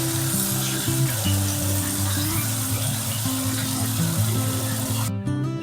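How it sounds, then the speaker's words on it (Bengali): Chopped onions sizzle and crackle steadily in hot oil seasoned with cumin and a dried chilli, a loud continuous frying hiss that holds throughout, with a brief clatter near the end. "পেঁয়াজ কুচি করে রেখেছি, সেই পেঁয়াজগুলো তেলের মধ্যে ছেড়ে দিচ্ছি"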